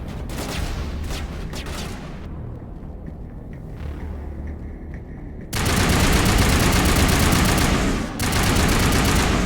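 Gunfire in Mass Effect 1 rattles in sustained, loud automatic bursts, easing briefly into a quieter stretch before a heavier volley resumes close up.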